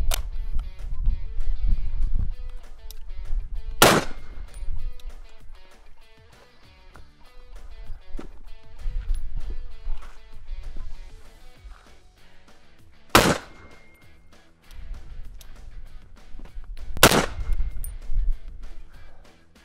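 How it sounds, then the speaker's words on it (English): Three sharp, loud rifle shots of 175-grain military 7.62 rounds fired at a Level 3 body armor plate, spaced several seconds apart over a low rumbling background with faint clanking. "Now we're shooting a 175 grain military"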